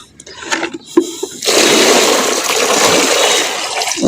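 Water poured in a strong continuous gush to wash mud away in a village household yard, starting with a few knocks and splashes before a loud, sustained splashing rush that lasts to the end.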